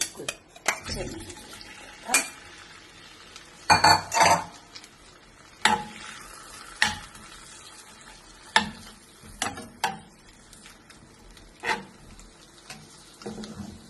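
Butter and garlic fry in a pan for butter garlic shrimp: a quiet sizzle runs underneath while a utensil scrapes and clinks against the pan in irregular bursts, fairly close.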